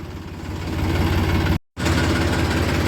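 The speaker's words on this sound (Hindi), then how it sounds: "ट्रैक्टर को धीरे धीरे अंदर कर लेते हैं।" A farm tractor engine chugs loudly and steadily at low speed as it rolls slowly indoors on a cold winter day, with a brief dropout midway before the rumble resumes.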